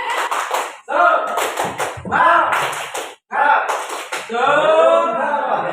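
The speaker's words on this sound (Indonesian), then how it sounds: "Ya, tepuk semangat dulu ya, biar semangat ya." A group claps a rhythmic spirit cheer at a school teachers' session, in short patterned bursts mixed with group chanting and a little laughter, loud and close.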